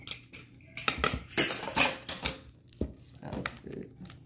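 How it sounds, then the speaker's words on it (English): A utensil clinks and scrapes irregularly against a bowl while crab dip mixture is stirred, with soft tapping strokes and brief pauses, close and moderately loud. "You're gonna stir this all up."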